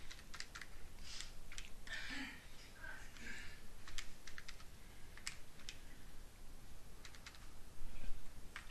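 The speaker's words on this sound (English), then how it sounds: "you simply type that answer in" Someone types an answer on a computer keyboard: quiet, irregular bursts of light key clicks and taps spread across the stretch, close by and without talk.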